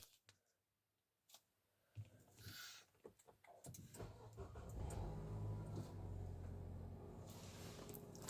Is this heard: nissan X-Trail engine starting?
yes